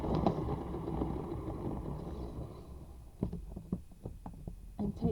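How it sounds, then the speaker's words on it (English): A salad spinner holding paint is spun round by hand, giving a steady low whirring rumble that fades and breaks into a series of sharp plastic clicks and rattles as it slows. "help them spin the spinner. So I'm going to spin it round"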